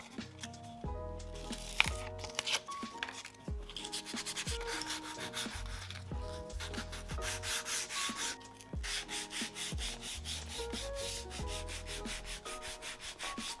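Steady rhythmic scuffing and rubbing as the surface of a homemade leather strop is roughened up, close and continuous back-and-forth strokes with brief pauses between passes.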